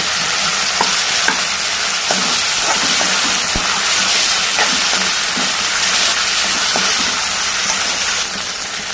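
Chopped tomatoes go into a pan of frying fenugreek, mustard seeds, cumin, curry leaves and onion, giving a steady, loud sizzle with scattered scraping clicks as the mixture is stirred.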